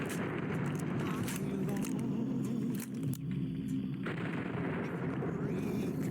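Gunfire from a shotgun in Fallout New Vegas, with dense continuous battle noise and a brief dip near the middle. Voices talk over it.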